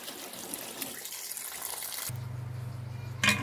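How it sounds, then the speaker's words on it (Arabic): Tap water runs into a sink while spinach is washed, a faint, steady gush that turns smoother and hums partway through, with a brief louder splash at the end. "اهو الميه بقى تعلى عليها كده هغسلها بقى"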